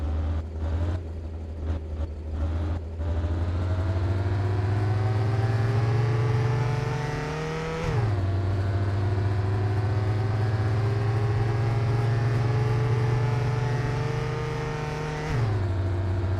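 A car engine in the video game My Winter Car drones loudly and continuously, climbing through the revs, dropping sharply twice as gears shift, then pulling up again with a strained hum.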